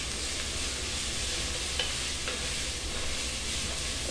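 Onions and green chilies fry on a high flame for a mutton curry, giving a loud, steady sizzle with a few faint stirring scrapes and no talking.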